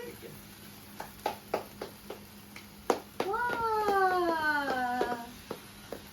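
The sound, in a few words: child clapping hands at birthday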